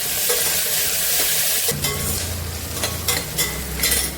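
Onions and okra frying in a pan give a continuous loud sizzle, with bursts of crackle and a few scraping stirs near the end, with no one speaking.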